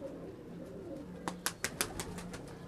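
Red pigeons cooing, soft low throaty coos rolling along nearby, followed by a quick run of five or six sharp clicking taps or wing flaps, fairly quiet overall.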